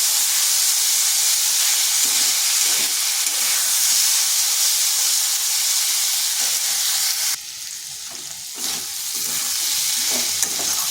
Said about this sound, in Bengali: এগুলোকেও আবার 3 থেকে 4 মিনিট এইভাবে ভেজে নিতে হবে